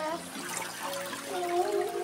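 Pool water circulating at a pool party in Nicosia, Cyprus, a soft steady gurgle and splash of moving water, faint and close, with voices talking over it.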